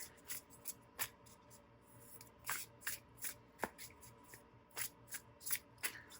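Thick, cardboard-like tarot cards shuffled by hand, giving a series of soft, papery riffles and slaps in quick irregular bursts, close and fairly quiet.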